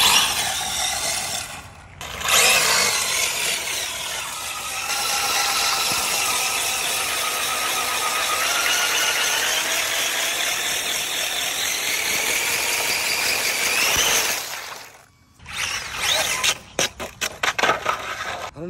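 Toy RC car with a powerful motor and grippy tyres, a loud, continuous high whine for about twelve seconds, close up, ending in a few short rattling bursts.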